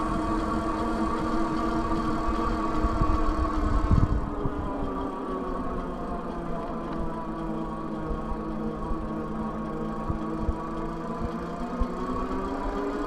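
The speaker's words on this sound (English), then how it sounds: "You could hear the motor. You can hear it working, but it's not quite as high pitched." The motor of a Juiced RipCurrent S e-bike climbing a hill, a steady, moderately quiet whirring hum with faint drivetrain noise and some wind, heard alone without talk.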